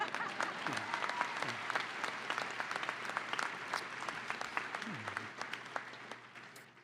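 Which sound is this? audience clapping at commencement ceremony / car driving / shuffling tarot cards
audience clapping at commencement ceremony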